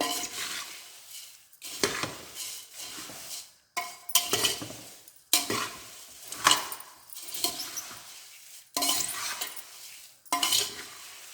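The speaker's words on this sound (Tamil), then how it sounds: "இது கலக்கிறதுக்காக நான் பெரிய பாத்திரத்தை வச்சுருக்கேன் பாருங்க, கலக்கிறதுக்கு எத்தனை வசதியாக இருக்கு." Puffed rice (kara pori) with spices being stirred and tossed in a large vessel: repeated dry rustling, scraping sweeps in bursts with brief pauses between, close and fairly loud, with occasional clinks of a utensil against the metal.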